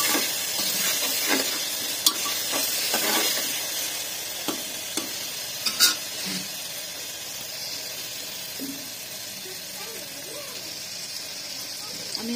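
Onions sizzle in a hot pan while they brown, a constant frying hiss with occasional scrapes and taps of a spoon, as a voice talks over the cooking.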